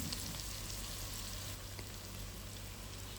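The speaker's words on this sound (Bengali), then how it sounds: "পেঁয়াজগুলো দিয়ে দুই থেকে তিন মিনিটের মতো ভেজে নেব" Onions fry in oil in a pan for chicken tehari, giving a steady, even sizzle with a faint crackle throughout and no voices.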